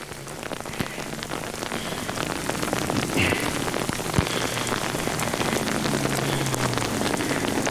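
Heavy rain pattering steadily on a surface on the Billy Goat Bluff off-road track, a dense constant hiss with scattered louder drops, no voices.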